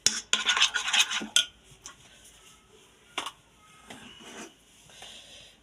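A spoon mixes fried eggplant with lemon juice, clinking and scraping against the dish in a busy burst at first, then settling into a few quieter taps and stirs.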